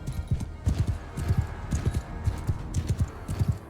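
Cavalry horses in Mount and Blade Bannerlord gallop in a quick, steady clip-clop rhythm of heavy hoofbeats that carries loud and close throughout.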